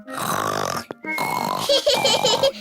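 In a French cartoon, a pig character mimics snoring with drawn-out, rumbling snorts, then breaks into chuckling laughter that bubbles in short bursts.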